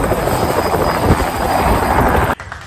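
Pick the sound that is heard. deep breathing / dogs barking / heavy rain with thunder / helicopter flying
helicopter flying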